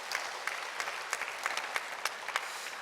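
A church congregation at a Sunday evening service claps for the men present, a light, faint smattering of separate claps with a few sharper hand strikes, distant in a large room.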